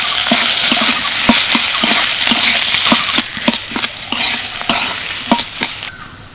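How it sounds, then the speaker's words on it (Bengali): Spiced potato filling with ground cumin, chopped coriander leaves and salt is stirred in a hot pan until dry. Loud, rhythmic scraping strokes repeat over a steady sizzle, with no talking. "পুরটা নেড়ে চেড়ে একদম শুকনো শুকনো করে নিয়েছি"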